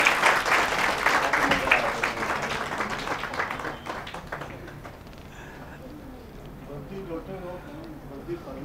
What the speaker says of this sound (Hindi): ज़ोरदार आप लोग तालियां से हौसला अफजाई करें।